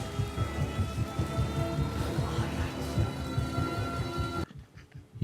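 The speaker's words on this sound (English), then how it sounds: "they had to make it rain" Heavy rain in a TV drama scene, a dense steady downpour with low rumbling thunder under music-like tones, continuing loud for about four seconds before cutting to a quieter tail.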